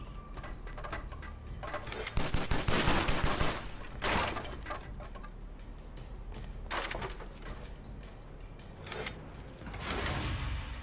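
Golden pistols firing in the Stranglehold game, bursts of rapid gunfire in several clusters with crashing impacts between them, loud and close, with no talking.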